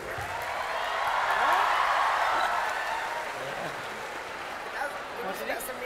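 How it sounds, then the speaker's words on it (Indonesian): A studio audience at an Indonesian television talk show applauds, a dense wash of clapping that swells and then holds steady, fairly loud and unbroken. "Tepuk tangan dong."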